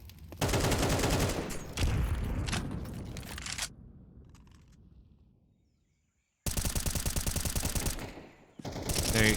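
Automatic-weapon fire rattles in bursts during a Counter-Strike match on the Ancient map, dense sprays of shots separated by a short quiet gap, loud and close, with no talk over them.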